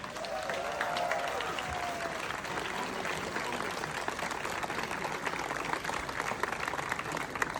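Sustained applause from a large audience at an Independence Day celebration hosted by an ambassador, steady dense clapping running throughout with a faint crowd murmur and a brief tonal whistle or cheer near the start.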